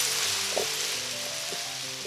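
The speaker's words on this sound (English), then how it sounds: "We'll add in the mushrooms. I have a pound of mushrooms here. This is portobello, sliced portobello." A pound of sliced portobello mushrooms sizzle in a hot pot on high heat, giving a loud, steady hiss with a few soft clinks of stirring, and no one talking.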